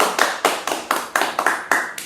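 Applause for a guest: about nine evenly spaced, sharp claps, close and loud, as if from a single pair of hands rather than a crowd.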